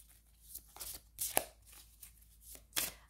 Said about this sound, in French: je vais mélanger le jeu